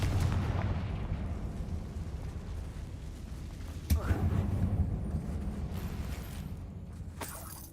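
Confringo spell blasts in Hogwarts Legacy inside a closed mine resembling a tomb: a sharp burst near four seconds and another near seven stand out over a rumbling, reverberant game background while a voice talks.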